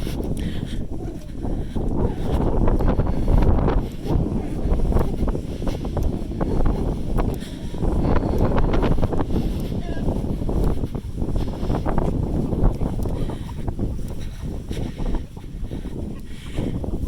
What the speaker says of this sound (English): Super windy outside